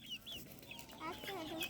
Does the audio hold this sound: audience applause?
no